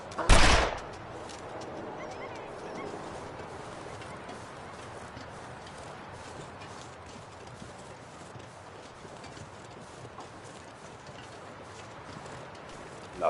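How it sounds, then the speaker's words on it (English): A single loud, sharp gunshot from a hip-fired gun in the survival game The Long Dark cracks out near the start, then gives way to a steady, wind-like ambient hiss. A faint second report sounds at the very end. "Nothing like hip shooting"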